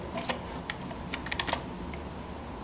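Computer keyboard typing during 3D modeling work, a steady run of soft key clicks with a few sharper taps close by, set against a faint room hiss with no talk.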